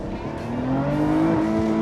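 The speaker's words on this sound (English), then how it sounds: "hit the rev limiter there" A 2020 Lotus Evora GT engine revs hard and climbs quickly, then bounces off the rev limiter in a loud, sustained, close-up pull with no voices.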